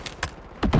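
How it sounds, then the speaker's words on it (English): A gun magazine being swapped in a video game shooter: two quick, light mechanical clicks followed by a heavier, closer double thunk, all within a second, with no talk. "Swapping mags!"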